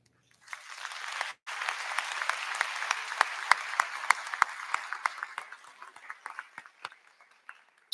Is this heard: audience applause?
yes